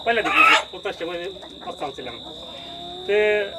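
Five-month-old chickens on a poultry farm cluck and squawk close by, with people talking over the birds throughout.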